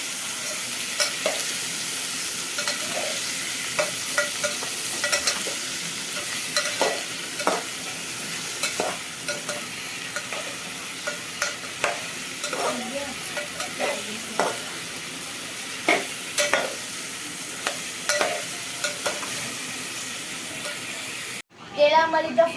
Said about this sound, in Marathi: त्याला फ्राय करूया.